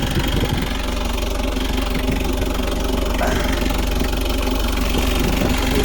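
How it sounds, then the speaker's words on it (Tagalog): A car engine idles steadily up close, a constant low rumble with a faint knocking tick running throughout, heard alone with no talking. "Napakaganda ng makina yan."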